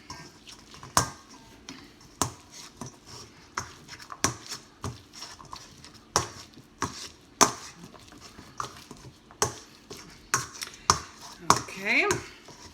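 Canned tri-color beans mashed in a bowl, giving a string of irregular sharp taps and squishes of the masher against the bowl, near and fairly quiet.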